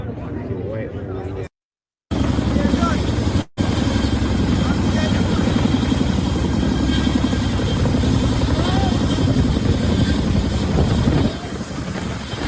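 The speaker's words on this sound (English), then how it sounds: "Those were two Chinook helicopters" Two Chinook helicopters roar continuously with a deep thudding rotor beat, loud and close, briefly cutting out near the start.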